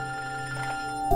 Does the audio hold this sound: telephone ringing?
yes